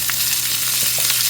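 Masala for chicken green masala roasts in a small amount of oil in a pan. It gives off a close, steady sizzle, with a few faint stirring scrapes and no talking.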